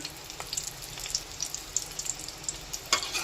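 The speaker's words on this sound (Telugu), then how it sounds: "ఆయిల్లో వేయించేస్తానండి. లైట్గా ఫ్రై చేసుకుంటాను." Boiled eggs frying lightly in oil give a steady, close sizzle with scattered small pops and crackles and no voices.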